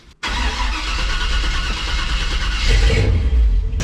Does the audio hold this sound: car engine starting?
yes